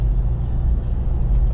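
Car cruising on a Florida Keys highway behind a tractor trailer, a loud, steady low rumble of road and engine noise filling the cabin, continuous with no speech.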